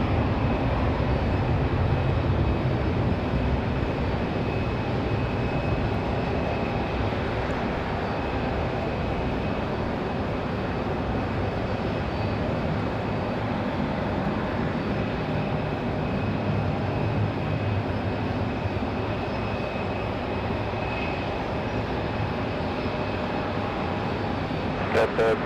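A Delta airliner, flight 1038 to Fort Lauderdale, takes off on a rainy day at Raleigh-Durham International, a steady broad jet engine roar that stays loud and even throughout with faint rain noise.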